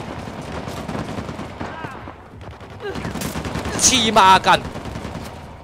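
Automatic gunfire from a machine gun in the action game Uncharted: The Lost Legacy, bursts of shots building toward a louder cluster near the end, mixed with game effects while someone talks excitedly over it.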